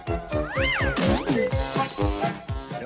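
A cartoon cat meows several times in a row, loud and close, with drawn-out, rising and falling cries over a steady rhythmic thumping background.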